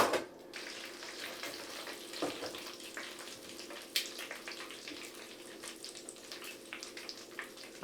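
Full-size taquitos fry in hot oil, a continuous bubbling sizzle with scattered sharp crackles and pops, moderately loud and steady, with no voices.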